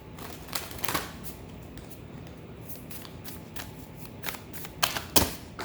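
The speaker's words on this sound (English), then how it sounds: "We're going to continue to shuffle" Tarot cards being shuffled during a zodiac tarot reading, with a run of soft riffling and sharp flicks and snaps close by, the loudest bursts near the start and again toward the end, with no speech.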